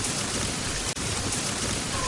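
Steady rain falls outdoors as a dense, even hiss that fills the whole short stretch, broken only by one very brief dip.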